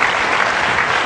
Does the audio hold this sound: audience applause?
yes